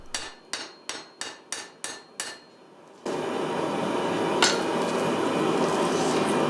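Hammer forging the edge of a ladder pattern damascus steel billet: seven sharp, evenly spaced metallic blows ring out close and loud, then give way to a steady broadband roar with a brief clink.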